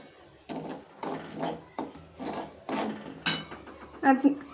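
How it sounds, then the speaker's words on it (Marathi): A spoon scrapes rhythmically around a pan in about six steady strokes, stirring ground spices into a thick karonda pickle mixture, with a slightly louder clatter at the end. "आता जे मसाले मिक्सरमध्ये काढलेले ते आपण याच्यात करवंदांमध्ये मिक्स करून देऊ व थोडं हलवून घेऊ"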